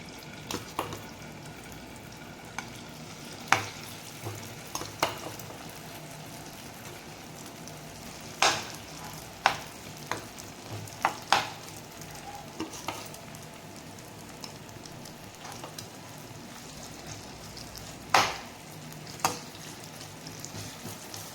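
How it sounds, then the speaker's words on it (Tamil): Chilli-coated elephant foot yam slices frying in hot oil, giving a steady crackling sizzle with sharp pops and spatters scattered through, close and moderately loud, with no talking. "மிளகாத்தூளில் போட்டு கலந்து வச்சுருக்கிற சேனையை எண்ணெயில் போட்டுக்கலாம்."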